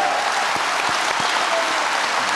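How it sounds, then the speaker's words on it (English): A crowd at a political rally with Vice President Pence in Billings applauds in loud, dense, continuous clapping that fills the space evenly throughout. "You're going to have to wait until they quit clapping"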